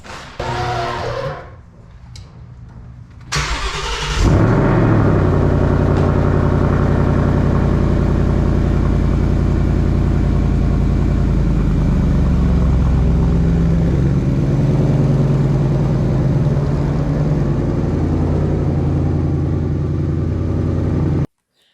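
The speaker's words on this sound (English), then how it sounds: "let's go ahead and get that cold start" A Ford Mustang GT is cold-started after a few seconds of quiet and a starter crank. It fires into a loud, sustained high-idle rumble that stays steady and close, then slowly settles to a lower drone, with no talking.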